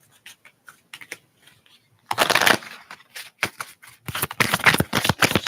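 A deck of tarot light cards is shuffled up close: light riffling bursts at first, then louder, dense shuffling runs with short pauses between them.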